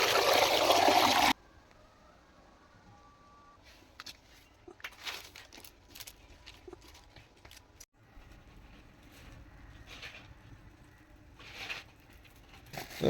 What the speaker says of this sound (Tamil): இந்த கொதிச்ச வெள்ளத்தை அந்த குடலில் ஊற்றி குடலை ஃபஸ்ட்டு க்ளீன் பண்ணணும்